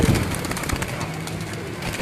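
Dabb breed pigeons cooing at close range, a low throaty coo at the start followed by softer murmurs over background noise.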